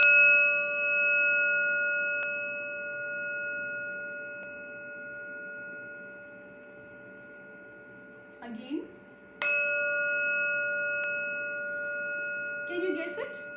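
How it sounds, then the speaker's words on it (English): A singing bowl rings with a steady, sustained tone, then is struck again and blooms into a fresh, bright ring that hangs in the air. A few soft handling sounds and a brief spoken word come through. "So this is a singing bowl."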